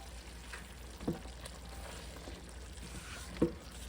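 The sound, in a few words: seasoned onions and celery sizzling in a pot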